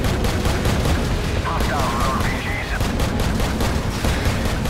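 Rapid gunfire in Call of Duty 4: Modern Warfare rattles in a loud, continuous stream of closely spaced shots, with a brief whistling tone partway through.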